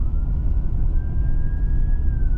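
An ambulance siren wails on a highway in a single long, slowly rising tone over loud, constant road and engine rumble from inside a moving car.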